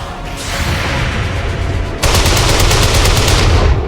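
Dense automatic gunfire in XCOM 2, loud and close, begins as a continuous roar. Midway it turns into a faster, harder burst of rapid rattling shots that carries on to the end, with no talk.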